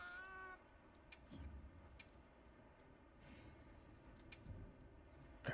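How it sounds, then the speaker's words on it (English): A cat meows a few times, faint and close, with short separate calls spaced irregularly across a quiet, low background hum. "Oh, the cat wants to talk."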